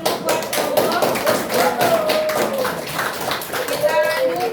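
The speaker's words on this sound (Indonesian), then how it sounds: "Sekarang tepuk tangan dulu buat kelompok." A classroom of students claps for a presenting group, uneven and fairly close, while voices and chatter run through the clapping.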